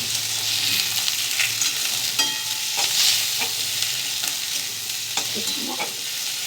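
Dried fish fries with onion in hot oil, a continuous close sizzle broken by occasional scraping stirs of a spatula in the pan.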